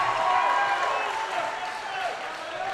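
Crowd clapping at a basketball game, a dense, fairly distant patter of applause holding steady with voices mixed in.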